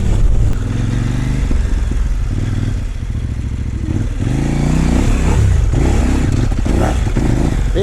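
A Kove 800 X Pro motorcycle rides off-road, its engine droning loud and close as the rider works the throttle against the brakes, with rising and falling revs and gravelly clatter running throughout.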